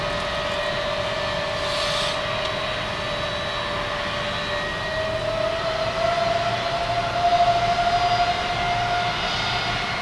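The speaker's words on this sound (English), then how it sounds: "Then when the plane starts moving, I give Mark a call saying it's blocked out" An airplane starts moving on a military flightline, with a steady loud engine roar and a high whine that rises slightly in pitch midway, continuous and fairly close.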